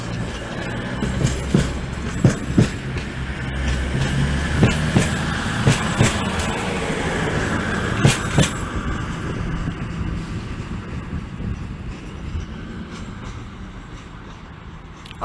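A CrossCountry Class 220 Voyager diesel train pulls out of Manchester Piccadilly station bound for Bournemouth, its engine rumbling steadily with wheel clicks and clunks over the rails as it draws away and fades.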